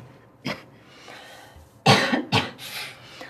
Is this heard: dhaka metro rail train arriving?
no